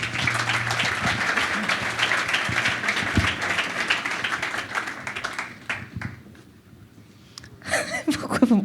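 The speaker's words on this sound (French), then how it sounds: "Vous pouvez l'applaudir." An audience at a business event applauds warmly, a dense, sustained clapping that thins out and fades before a brief burst of noise at the end.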